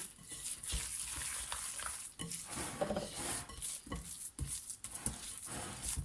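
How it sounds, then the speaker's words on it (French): Harcha dough of semolina is mixed by hand in a bowl, giving soft, irregular squishing and grainy rubbing sounds with occasional light knocks, close and fairly quiet, with no speech. "Il n'y a pas besoin vraiment de pétrir la pâte, il faut vraiment la mélanger."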